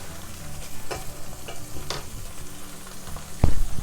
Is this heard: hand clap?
no